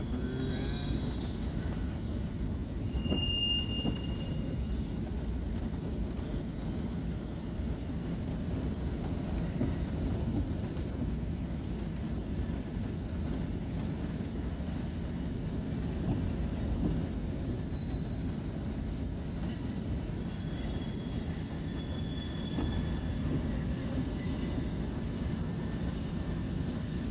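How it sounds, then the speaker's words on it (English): A long BNSF grain freight train rolls southbound past a railway junction, a continuous rumble of wagons and wheels with occasional faint squeals, heard steadily at moderate distance throughout. "that grain train that's heading to the south from BNSF is huge"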